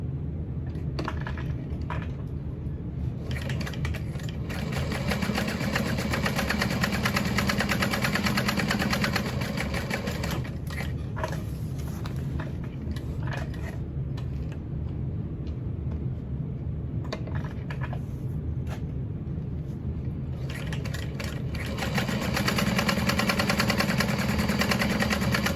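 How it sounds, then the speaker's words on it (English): A sewing machine stitches around a box on a backpack with a continuous mechanical whir and rattle, pausing and restarting in short bursts. "And now we're going to sew around the box here"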